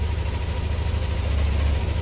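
A car engine idles steadily after a valve fix and reprogramming, a calm, even low hum with no revving, close and continuous throughout.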